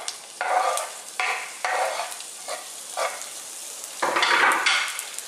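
Sliced garlic and onion, with chili, sizzle in a pan for Egg Foo Young while a utensil stirs them, giving a steady hiss that swells in repeated scraping bursts close up.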